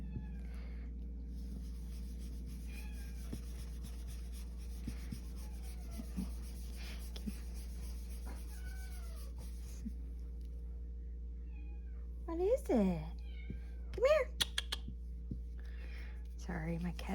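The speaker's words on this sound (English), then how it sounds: "my cat's in the background meowing" A house cat meows a few times in the background, faint and distant, while a person speaks softly nearby over a low steady hum.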